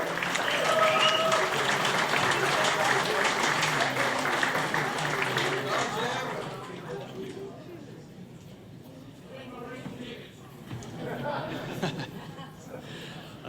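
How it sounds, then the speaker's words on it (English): A crowd at a men's group event applauds loudly with scattered cheers for several seconds, then the clapping fades to quieter murmuring and a few lingering claps. "Give Jim a big round of applause."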